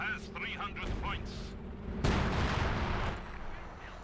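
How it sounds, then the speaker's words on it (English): Mines detonate in the real-time strategy game Company of Heroes 2, killing Wehrmacht grenadiers: a burst of blasts and crackling gunfire under a commentator's voice, with a loud, dense explosion midway that rumbles on for about a second. "More mines going off, killing further off Sakura's grenadiers."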